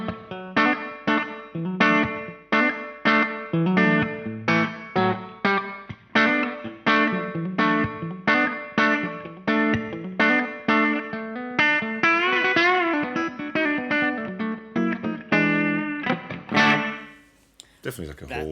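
Electric guitar played through a Caline Barn Owl reverb pedal set to a spacious hall-like reverb, a steady run of strummed chords with long washing tails, ringing out alone and fading at the end.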